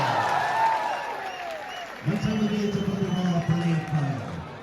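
Crowd applause and cheering at a competitive sports contest, a broad wash of clapping held under a loud commentator voice that talks throughout.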